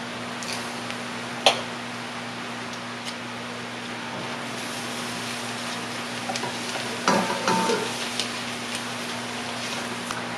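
Garlic cloves sizzle and crackle in a hot soup pot for Tuscan chicken soup, a steady soft frying hiss with a few sharper pops and a brief stir, close by with no talk.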